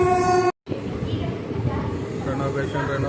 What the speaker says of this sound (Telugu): ట్రైన్ అయితే ఒంగోలు స్టేషన్కి అయితే వచ్చేసింది.